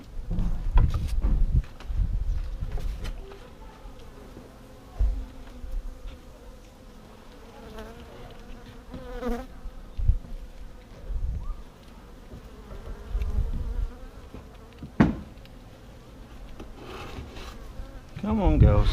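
Honeybees buzz around an opened home hive during a spring split, a close, varying drone of many insects with occasional clunks and knocks from the hive equipment.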